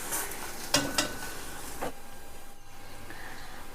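A sweet dosa sizzles softly on a pan, with a few sharp metallic taps and scrapes as it is flipped, then a quiet steady hiss.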